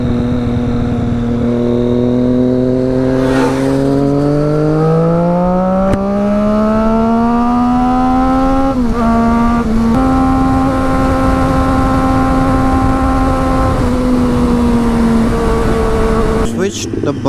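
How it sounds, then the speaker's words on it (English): Two Triumph motorcycles, a Street Triple and a Tiger, riding together: a loud, continuous engine drone whose pitch climbs steadily with acceleration, then holds fairly even, with heavy wind rush throughout. "Tanay is riding my Triumph Street Triple and I'm riding his Triumph Tiger"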